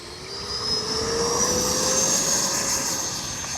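An FMS Super Scorpion V2 RC jet, flaps set for takeoff, gives a steady rising whine with a high turbine tone that swells over a few seconds and holds loud and near.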